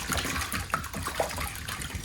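A hand swishing and stirring salt into cold water to make brine for smoking chickens, a steady close sloshing and trickling with small splashes throughout.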